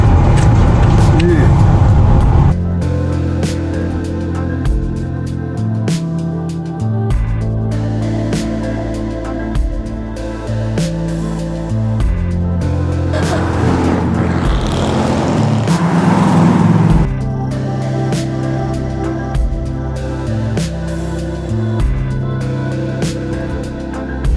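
Several rally cars in the Variety Bash 2023 idling and rolling slowly into a roadside rest area, a loud continuous engine rumble with shifting tones, close by, and voices talking over it.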